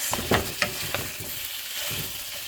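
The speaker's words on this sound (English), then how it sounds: "Then I'm gonna just squeeze it until the meat fries." Ground beef frying with caramelized onion in a pan for meat pies, a steady close sizzle with several sharp scraping and stirring clicks from a utensil scratching through the meat, no voices.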